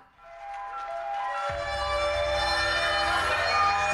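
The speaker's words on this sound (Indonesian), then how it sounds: "Kembali terdengar suara sirine peringatan bencana alam." A loud natural disaster warning siren wails steadily during a joint air force emergency drill, its rising tones building and sustaining over a low rumble, with no voices.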